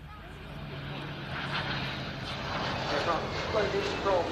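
A DHL Boeing 767-3JHF cargo jet manoeuvres during an airshow flying display at RIAT 2012, its steady broad jet engine roar filling the air throughout while a commentator talks over it.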